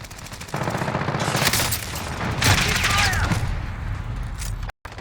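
Sustained automatic gunfire and booming bursts in the video game Warzone Caldera, loud and close, rattling for several seconds with faint in-game voice chatter beneath before a sudden cut.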